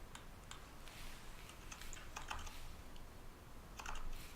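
Keys tapped on an older custom keyboard being programmed, with sparse, quiet clicks at irregular intervals over a steady low background hum; no talking.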